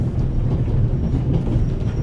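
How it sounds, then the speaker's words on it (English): Steady low rumble and rattle of a moving train carriage in the video game The Raven, a continuous dense clatter heard from inside the car, loud and even throughout with no voices. "The noise on this train is driving me crazy."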